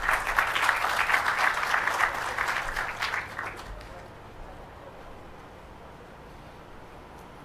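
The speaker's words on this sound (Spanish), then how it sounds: "Un aplauso para ellos." Audience applause at a biofertilizer technology-transfer workshop: a dense burst of clapping for about four seconds that fades out, leaving quiet room tone.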